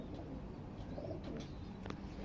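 Breeding pigeons in a loft coo softly and at a distance, a few faint low calls under a constant hum, with no one talking.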